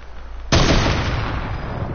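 One sniper rifle shot in a video game cracks out loud and close after a quiet moment, then its rumbling echo slowly fades away.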